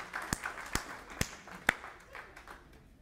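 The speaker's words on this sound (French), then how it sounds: "Peux-tu les applaudir?" A few scattered, sparse claps ring out at a church service, distinct sharp hits spaced about half a second apart over faint room noise, fairly quiet and far off.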